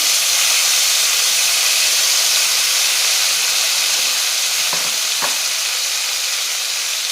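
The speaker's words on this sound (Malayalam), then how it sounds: "കറിവേപ്പിലയും വറ്റൽമുളകും ചേർത്തൊന്ന് മുരിയിക്കാം." Curry leaves and dried red chillies crackle and sizzle in hot oil with mustard seeds, a steady, loud frying hiss throughout with a couple of sharper pops near the end.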